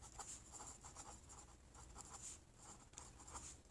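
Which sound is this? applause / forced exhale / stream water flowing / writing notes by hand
writing notes by hand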